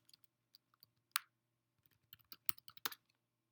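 Light keystrokes tapped on a Mac computer keyboard, about a dozen soft, close clicks in irregular bursts, with a few louder key hits standing out against a quiet room.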